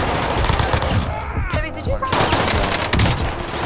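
Rapid automatic gunfire from a first-person shooter game rattles loudly and nearly nonstop, bursts layered over one another with a short lull near the middle, while a voice talks briefly over it.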